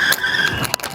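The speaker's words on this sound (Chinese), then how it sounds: "这刹车力道，你就是轻轻松松压，它就完全刹死了" A Lankeleisi GOLF-X folding fat-tire e-bike brakes hard from about 44 km/h with 4-piston brakes, giving a sustained high brake squeal with short scrubbing bursts, close and loud.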